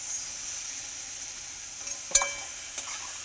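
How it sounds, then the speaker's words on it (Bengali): Mung dal fries in a pan with a constant soft hiss and a couple of sharp clinks from a utensil against the pan. "ডালগুলো একটু ভেজে নেব।"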